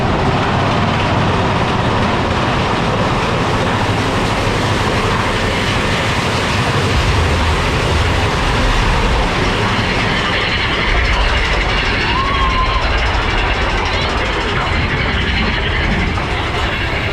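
Disneyland's mine train roller coaster rumbles along under California sunshine, a steady, loud rattle and roar of wheels on track and wind with a faint clickety-clack, continuous throughout with no talking.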